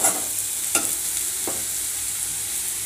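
Garlic and small onions sauté in a pan with a continuous hiss of frying, broken by a couple of sharp spoon scrapes and stirring taps, close by and steady.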